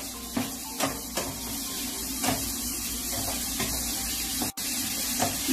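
Onions sweating gently in a pan while pork chops charcutière are cooked, giving a steady low sizzle throughout, with light stirring clicks and a brief pause near the end.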